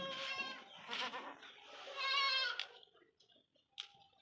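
Goats on a goat farm bleat loudly several times in close succession, wavering nasal cries, followed by quieter rustling and one short final bleat.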